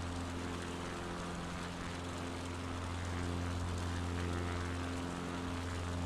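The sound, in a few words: aircraft flying overhead in a flight video game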